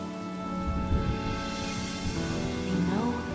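Rain in a Honkai: Star Rail cutscene, a steady wash of falling rain under layered music and low rumbling, with no clear voice.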